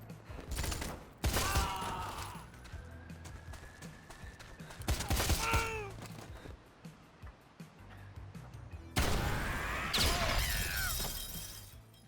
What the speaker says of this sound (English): For the most part, the guns sound decent with some nice impact when you hit someone.